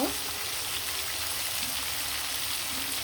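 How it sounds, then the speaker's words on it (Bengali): Pieces of river snakehead fish sizzle in hot oil in a home kitchen, giving a steady, even frying hiss throughout with no voices. "অপর পিসটা দিয়ে আবার সুন্দর করে ভাজা ভাজা হয়ে গেলে মাছগুলো আমি খুব সুন্দরভাবে উঁচিয়ে নেব"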